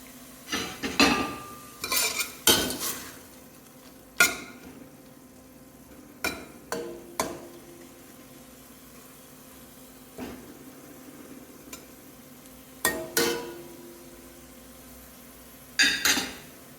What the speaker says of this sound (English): So leave that for a bit to saute.